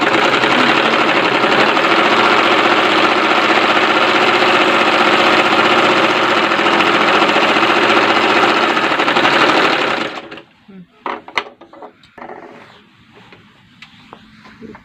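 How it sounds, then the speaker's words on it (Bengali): A sewing machine stitches the hem of a maxi dress in one loud, continuous mechanical whir for about ten seconds, then stops, leaving a few scattered handling clicks and taps. "তারপরে আবার মুড়িটা সেলাই করি"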